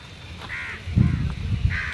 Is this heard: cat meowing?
no